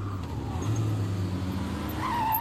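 A car on a road slows to a stop in the middle of the street, a steady low engine rumble with a brief higher tyre or brake squeal near the end, close by and with no talking.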